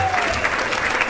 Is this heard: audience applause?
yes